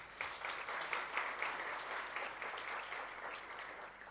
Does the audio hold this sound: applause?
yes